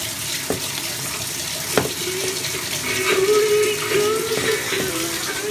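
Shower water runs steadily with a broad continuous hiss, joined by a few scattered clicks and knocks in a home bathroom during a morning routine.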